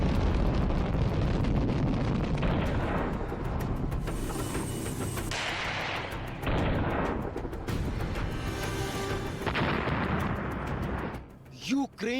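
Russian missile strikes in Ukraine: loud, rumbling blasts and roaring bursts follow one another over about twelve seconds, with a dense crackling roar that fades out at the end.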